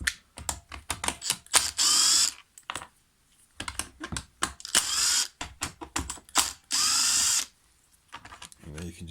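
A power driver with a T27 Torx bit backing out the bolts on a Stihl KM 94 RC recoil cover, several short ratcheting whirs separated by clicks and handling noise, close by.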